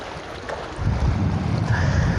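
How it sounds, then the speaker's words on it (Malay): Wind and waves on a brown-water beach along the Strait at Batu Pahat, Johor, heard as a steady close rush of wind buffeting the microphone over low surf that grows louder partway through. "Kita sekarang ni berada di pantai."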